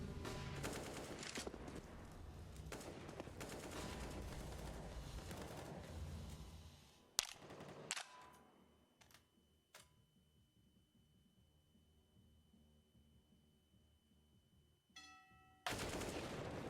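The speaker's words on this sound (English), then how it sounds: "And now, as shots ring out, Ajax." Gunfire from a Counter-Strike esports match comes as a loud burst of rapid shots for several seconds, then a few sharp isolated cracks and near quiet, ending with another sudden loud burst.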